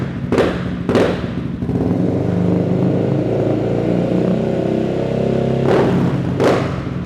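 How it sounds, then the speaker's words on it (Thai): A 2021 Honda Forza 350 scooter fitted with a titanium full-system aftermarket exhaust idles with a steady, loud engine drone, broken by four sharp throttle blips in two close pairs, one near the start and one near the end. "คันนี้มาพร้อม่าท่อแต่งทรงอะคาปวิกเป็นไทเทเนียมนะครับแบบฟูลซิสเต็มเลยจะมาฟังเสียงท่อคันนี้กันนะครับ"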